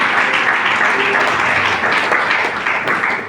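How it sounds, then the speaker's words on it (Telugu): A church congregation claps loudly during a sermon: dense, continuous applause from many hands that fills the whole stretch at a steady, high level. "గట్టిగా చప్పట్లు కొట్టుగా."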